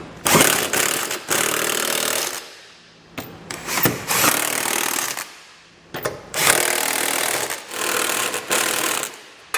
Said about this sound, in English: we can come back with a 19mm socket and snug them all down